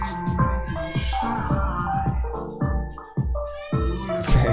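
A house cat meows repeatedly up close, a string of loud, drawn-out, whiny calls with short gaps between them, rising into a sharper cry at the end.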